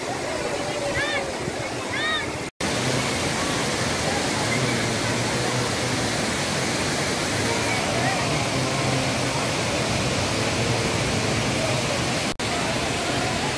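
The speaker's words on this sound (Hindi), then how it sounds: "क्या मस्त झरना है" The Mazar Kund waterfall near Sasaram pours in a steady, loud, unbroken roar of rushing water. Faint voices sit under the noise.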